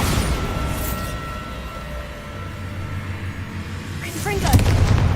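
Bombarda spell explosions in Hogwarts Legacy, a rumbling blast at the start that decays, followed by another burst and sharp magical cracks near the end, with faint voice-like sounds mixed in.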